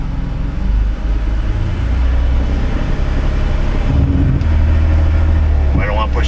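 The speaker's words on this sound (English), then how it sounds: "Let's give her a little throttle." An old car's engine running smoothly at idle, then given a little throttle so it rises briefly and drops back, heard close with people talking over the steady rumble.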